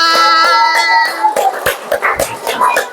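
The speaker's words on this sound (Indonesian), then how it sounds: "tepuk tangan semuanya" Second-grade primary school children clap their hands together in a classroom, a quick, uneven burst of claps following a sustained voiced tone.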